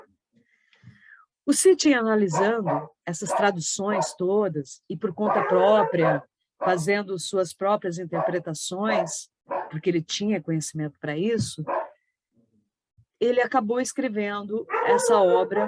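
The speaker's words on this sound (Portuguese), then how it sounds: "desculpa pelos meus cachorros latindo" A person talks steadily in the foreground while dogs bark and yip now and then underneath, fairly close.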